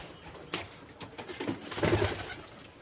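Pigeons in a home coop coo softly in a few short, low, rounded calls close by, with no talking.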